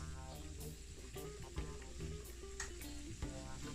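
Homemade soft dough donuts fry in hot oil, giving a faint, steady sizzle with small pops throughout. A soft tonal background hum sits underneath, and no one speaks.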